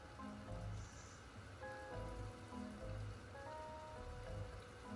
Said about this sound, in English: And it's raining in the desert.